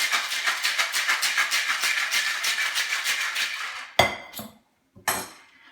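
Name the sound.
cocktail shaker shaken with ice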